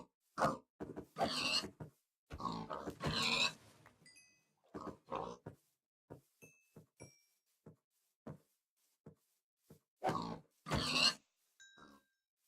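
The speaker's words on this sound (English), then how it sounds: "Oh, well, there's some more pigs." Pigs in the Minecraft video game grunt and oink in short, repeated bursts, irregularly spaced over several seconds, mixed with brief high game beeps and clicks and no voice over them.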